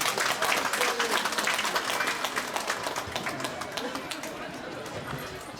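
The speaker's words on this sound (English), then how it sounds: "How about a round of applause, ladies and gentlemen?" A crowd at the opening ceremony of the 4th ALCU Games 2025 applauds steadily, with sharp individual claps standing out over background chatter and the clapping slowly tapering off.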